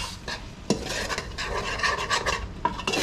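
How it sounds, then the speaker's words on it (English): Sizzling and rasping from a pan of frying beans, a steady crackling hiss with a few sharper scrapes and clinks of a utensil, close by. "you want it to kind of fry just a little bit"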